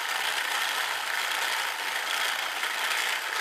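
A pericyclic gearbox spinning at about 1500 RPM gives off a dense, continuous high-pitched rattling whir, steady and fairly loud at close range, with no talking.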